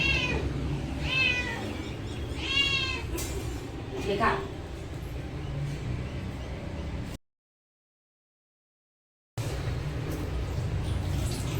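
A pet cat meows several times in quick succession, up close, while waiting to be fed liver. A voice speaks nearby, and steady background noise runs under it.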